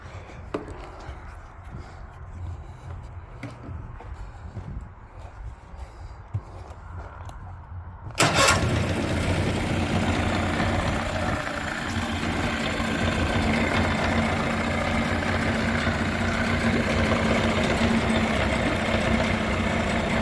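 A 1997/98 Mercury 25hp long-shaft two-stroke outboard motor with a faulty key switch, first quiet with faint clicks and taps, then firing up abruptly at about eight seconds and settling into a steady, loud, buzzing idle.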